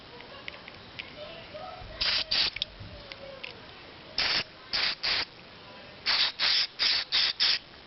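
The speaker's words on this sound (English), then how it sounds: "So I've got some carburetor cleaner" Short bursts of carburetor cleaner sprayed from an aerosol can onto a motorcycle carburetor from an Evolution Sportster: about ten hissing spurts, a couple at first, then three, then a rapid run of five, close and loud over quiet background.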